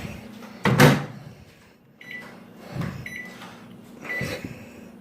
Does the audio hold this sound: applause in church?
no